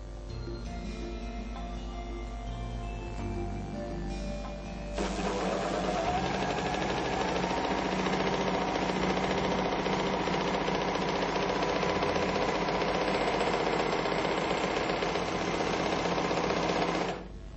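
A Merrylock MK-3000CL overlock serger stitches with a steady, fast mechanical whir and needle chatter, running continuously and close, growing louder and denser after a few seconds of lighter motor hum.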